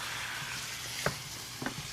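Chicken coconut curry ingredients sizzle steadily in a pan with a soft, constant hiss. A couple of brief clinks from stirring break through it, and no one speaks.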